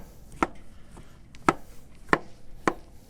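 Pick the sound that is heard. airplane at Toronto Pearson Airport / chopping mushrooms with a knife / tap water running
chopping mushrooms with a knife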